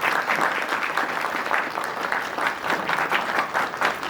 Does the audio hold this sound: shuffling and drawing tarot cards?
no